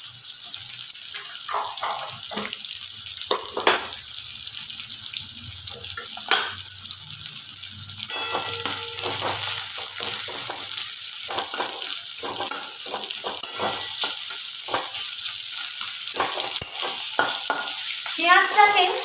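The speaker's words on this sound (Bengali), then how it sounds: "কড়ার মধ্যে পেঁয়াজ কুচি দিয়ে দেব তেলটা গরম হয়ে গেছে" Chopped onion frying in hot oil in a wok gives a loud, continuous hiss and crackle, broken by frequent close spoon scrapes and clicks throughout.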